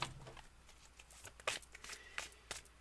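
Cards for a reading are shuffled close up in quick riffling bursts and soft slaps, irregular but continuous. The sound is fairly quiet with no voice over it.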